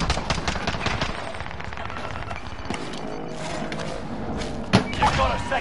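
Gunfire crackles in Call of Duty Warzone, rapid shots and thuds layered under dense game noise with a heavier impact near the end.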